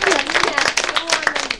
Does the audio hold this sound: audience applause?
yes